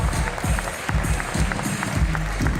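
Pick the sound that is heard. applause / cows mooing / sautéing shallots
applause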